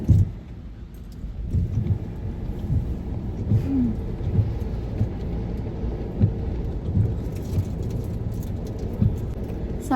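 Rain falls steadily during a family road trip, a continuous hiss and low rumble with a few faint taps and a brief louder swell at the start, with no one talking.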